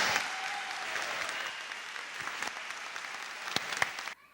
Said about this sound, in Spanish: un fuerte aplauso para todos nuestros graduados